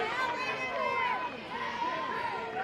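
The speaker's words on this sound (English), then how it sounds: "the crowd here in Gainesville doesn't like that one" Home softball crowd in Gainesville at a Minnesota vs Florida game, a steady murmur of disapproval and chatter filling the stands, with a voice carrying over the din.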